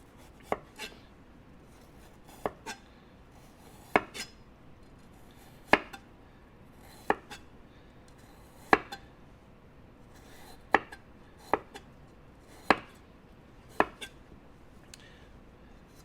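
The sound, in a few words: coarsely chopping fresh ginger with a knife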